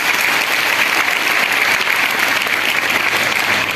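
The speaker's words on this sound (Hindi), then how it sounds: "जरा उनके लिए तालियां बजाइए।" An audience at a school Diwali celebration at an intermediate college claps loudly and steadily for students, the applause continuous and dense from start to finish.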